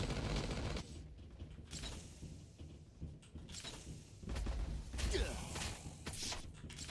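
Explosive grenade launcher shots and bursts in Last Day on Earth: Survival, irregular thumps and whooshes of moderate loudness amid other game noise.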